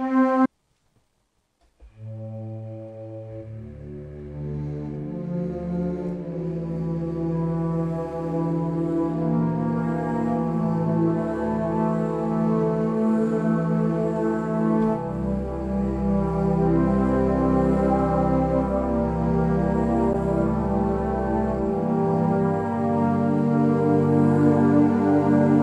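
A Spitfire Audio orchestral sample library plays sustained chords with a natural room ambience, swelling gently from a quiet start into a full, steady ensemble sound that lingers through the passage.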